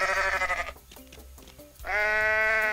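A goat in the video game Goat Simulator bleats loudly and close, a long wavering cry, then a short pause with faint clicks before a second sustained bleat.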